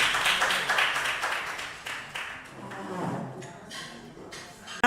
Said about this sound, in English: Let's clap for the agric group.